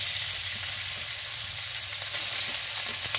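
Pork fat sizzles steadily in a little hot oil in a pan while Filipino ginisang monggo is being prepared, a constant bright crackle with faint pops, close and alone without talk.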